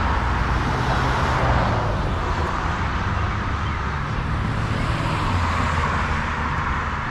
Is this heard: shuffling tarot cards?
no